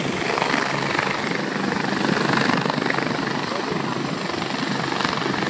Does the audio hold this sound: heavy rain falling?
no